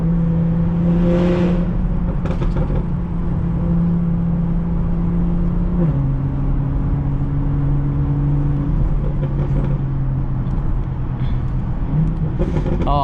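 A BMW 440i engine heard from inside while driving, a loud steady drone whose pitch steps down at a shift partway through, with a faint later rev.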